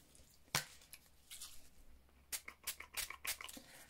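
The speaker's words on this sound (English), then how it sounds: "So what we do is we spray our stamping mist on here." Stamping mist sprayed onto a folded paper card in several quick hissing bursts: one sharp spritz, a softer pair, then a rapid cluster of four or five close, crisp sprays in a quiet room.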